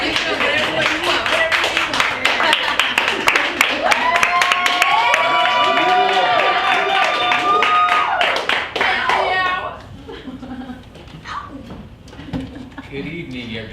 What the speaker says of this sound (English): It's hard not to clap.